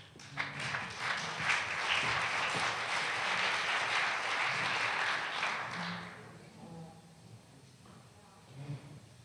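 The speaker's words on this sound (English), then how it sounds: "Please give a round of applause for Mcfarlane." An audience gives a round of applause for architect Brendan McFarlane at a talk, dense clapping lasting about six seconds before fading into quiet room sounds and faint speech.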